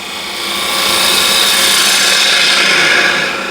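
A hollowing tool cuts into spinning wood on a lathe, a steady loud scraping hiss that swells in, holds for a few seconds and fades as the cut ends, with no talk.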